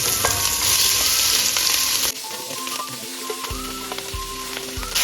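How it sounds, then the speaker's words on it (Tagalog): Pork pieces sauté in a pan over medium-high heat with browned onions for caldereta, giving a steady loud sizzle with stirring scrapes that drops to a quieter crackle partway through. "Isasangkot ka lang natin yung karne hanggang sa mag light brown siya"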